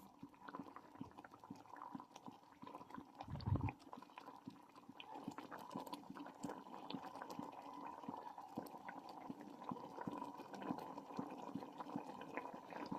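A pot of chicken stew bubbles and simmers steadily, soft liquid burbling continuing throughout with a brief low thump near the start.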